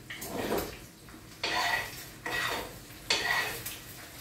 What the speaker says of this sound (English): I'm just going to kind of scramble